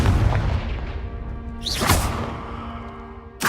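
A Confringo blasting spell bursts in Hogwarts Legacy with a booming whoosh midway, then a second sharp blast at the end, over a steady rumbling game background.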